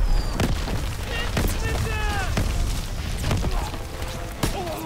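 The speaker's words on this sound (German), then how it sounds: "Feine Granate." Grenade blast in Call of Duty WWII, a heavy low boom amid ongoing gunfire and battle noise, with sharp impacts and whistling effects throughout and someone talking over the mix.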